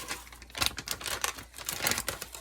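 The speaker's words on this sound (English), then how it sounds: "Now I'm going to cover this with one of my little aluminum foil sheets and bake it." A sheet of aluminum foil is crinkled over a baking dish of vegan lasagna, giving a faint, close crackling rustle that comes in a few quick bursts.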